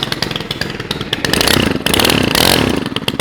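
A Stihl FS 91 brushcutter's small two-stroke engine clatters on the pull start, catches and then runs loud and close, revving up and down in rough, buzzing bursts.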